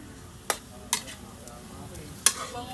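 Butter shrimp stirred in a pan gives faint sizzling broken by a few sharp utensil scrapes and clacks against the pan, quiet and close, with no talk.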